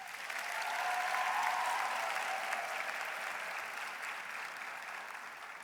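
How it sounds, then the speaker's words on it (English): Graduates at a university Faculty of Education graduation ceremony applaud their supporters in a large hall. Sustained, dense clapping swells early, then slowly tapers, heard at a distance with no speech. "I now request you to applaud your parents, partners, lecturers, and others who had supported you during your studies."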